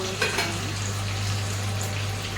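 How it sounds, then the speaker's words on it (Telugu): Chicken pieces frying in hot crackling oil give a steady, dense sizzle under a constant low electrical hum, with a few brief clinks near the start. "నూనె చిటపట అంటుంది"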